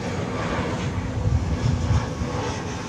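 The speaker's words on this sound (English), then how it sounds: "Incoming is this E-Jet, number 170, American Eagle Flight 3815" An American Eagle Embraer E170 regional jet approaches DFW Airport, a steady, broad engine roar with a low rumble that swells slightly midway, heard from the ground without any talk.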